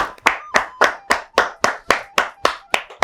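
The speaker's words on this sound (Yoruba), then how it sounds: "Ẹ bá mi pàtẹ́wọ́ fún wọn." Rhythmic clapping in a studio audience for quiz show contestants, about a dozen evenly spaced sharp claps close by, with no talk over them.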